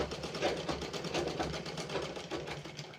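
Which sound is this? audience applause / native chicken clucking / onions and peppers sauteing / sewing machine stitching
sewing machine stitching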